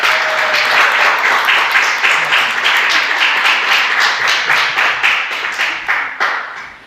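A church congregation applauding during a Sunday worship service, dense, loud clapping from many hands with a rhythmic pulse, sustained for several seconds before tapering off at the end.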